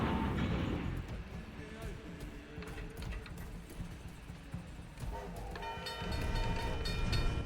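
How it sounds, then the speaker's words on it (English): A train passing through a tunnel in the video game The Surge, a heavy rumbling roar with rattling clanks and a tonal horn-like whine building near the end, loud and close throughout, with no voices. "Make sure you dodge the train and don't fall off"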